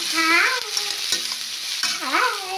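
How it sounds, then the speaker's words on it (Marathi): Capsicum stir-fried on high flame for street-style chowmein, loud sizzling and hissing with quick scraping stirs, close and continuous, with a faint background whine. "याला छान आपल्याला परतून घ्यायचं आणि गॅसचा फ्लेम हा हाय ठेवायचा आहे"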